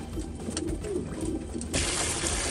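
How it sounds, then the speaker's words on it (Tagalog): Pigeons splash and bathe close by, with soft cooing under a steady wash of water noise that suddenly grows brighter and louder near the end. "so hayaan muna natin silang maligo mga kalapatids"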